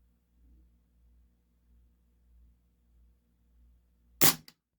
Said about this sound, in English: So we're just going to use this video just to shoot and shoot till we run out of gas.